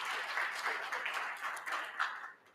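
An audience at a stakeholder roadshow event in Johannesburg claps together in a moderate, fairly distant round of applause that holds steady and then tapers off at the end.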